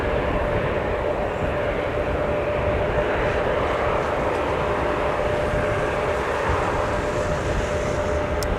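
A Delta Airbus A330neo heavy jet roars steadily at Minneapolis–St. Paul Airport during a winter storm, a loud continuous engine rumble with a faint whine, no voices.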